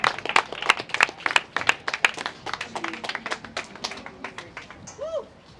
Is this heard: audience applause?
yes